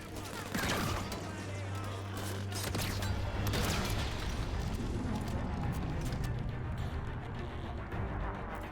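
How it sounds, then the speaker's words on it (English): A deep rumbling roar from a Guardian in the Halo 5 video game, a long sustained low swell mixed with distant gunfire and bursts of combat noise, with voices talking over it. "That sound just now. It was the penultimate guardian."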